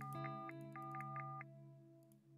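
A telephone rings in the point-and-click adventure game Unforeseen Incidents: a steady buzzing tone with a rapid pulsing chime pattern over it, fairly quiet, with a short click at the end.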